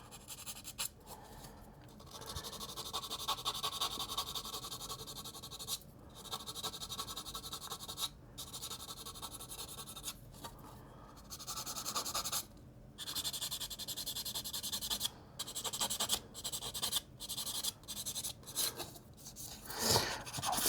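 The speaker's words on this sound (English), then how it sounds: "I think I might need to move on to a new sanding stick here soon." Sanding stick rubbing plastic on a 1/48 ICM Hampden model aircraft, a close, faint rasping in repeated back-and-forth strokes with short pauses between bursts and no talking.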